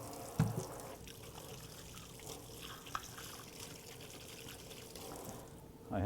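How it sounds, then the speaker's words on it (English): Water runs steadily from a tap while hands are washed in a kitchen, a soft continuous splashing flow with a few louder knocks. "So again, you got to wash your hands."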